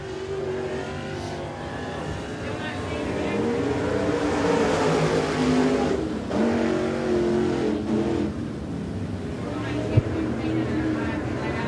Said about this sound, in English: Next car to qualify.